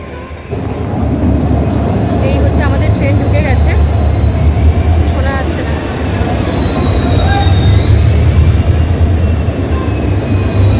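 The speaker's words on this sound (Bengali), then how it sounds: "এবার ট্রেনে ওঠার পালা" The SMVT Bengaluru Express at a platform in Howrah station gives a loud, continuous rumble with a sustained high wheel squeal that wavers in pitch, and faint voices come through underneath.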